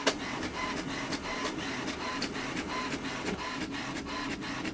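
An HP Smart Tank inkjet printer copies a page in black and white, its mechanism clicking and whirring in a regular rhythm as the page feeds through, close and fairly loud.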